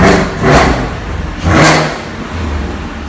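A 2018 Chevrolet Camaro ZL1 engine revs hard twice, surging loud and close with a gap between bursts, then settles toward a steady idle rumble.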